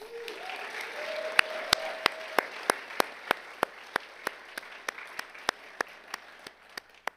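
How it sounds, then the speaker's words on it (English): At a University of Wisconsin–Stout event, an audience applauds, with crisp, evenly spaced claps ringing out in a steady rhythm over a soft wash of clapping for about seven seconds. "how about a big round of applause for Dave?"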